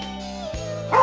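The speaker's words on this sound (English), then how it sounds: "Oh, look, a dog." Dog vocalizing in a short burst with a yelping, whimpery tone over steady background tone, ending in a louder rise.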